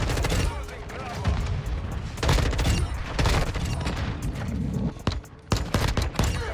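Gunfire in Modern Warfare 2: rapid bursts of close, loud shots fired in quick succession, with brief pauses between volleys and someone talking over the shooting.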